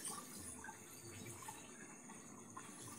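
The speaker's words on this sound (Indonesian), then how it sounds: "Nah, gelembung yang dihasilkan aerator Jibo ini lumayan ya" A Jebo 9950 AC/DC aerator bubbles water in a koi pond, giving a steady, soft fizzing and gurgling wash of bubbles that stays fairly constant and low in level throughout, with no talking.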